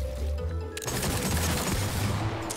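Six Shooter revolver fire in the Fortnite video game, sharp loud gunshots cracking in over ambient game noise, with a dense burst of rapid fire filling most of the stretch.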